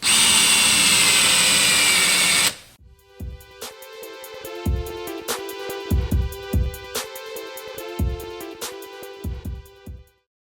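A power drill with a countersink bit boring into wood, a loud whirring burst for a couple of seconds that stops abruptly, then a quieter passage of repeated sharp ticks and clicks in an irregular rhythm.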